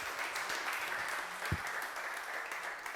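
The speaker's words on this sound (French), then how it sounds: "on peut l'applaudir" A TV game show studio audience on Deal or No Deal claps together in a steady, dense wash of applause, heard from some distance and never breaking.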